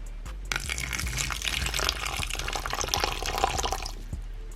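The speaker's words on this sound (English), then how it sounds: "So let's go ahead and water its bowl." Water poured from a beaker into a pet's water bowl, a steady splashing trickle of several seconds with a faint low hum beneath, close and fairly quiet.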